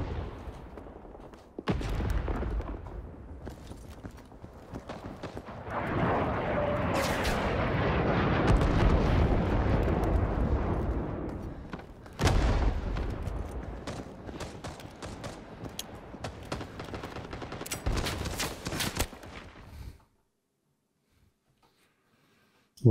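Artillery strikes pound a battlefield in Rising Storm 2: Vietnam: heavy booming blasts and a sustained roaring rumble with scattered gunfire, loud and close, before cutting to sudden silence near the end.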